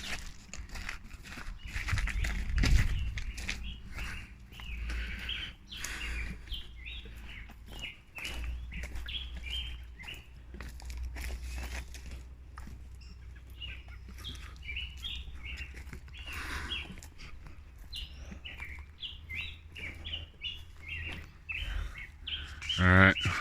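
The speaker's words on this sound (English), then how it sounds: "listen to the sounds of birds" Birds chirp and sing up in the trees, with repeated thin calls scattered across a quiet outdoor background and occasional soft rustles and movement nearby.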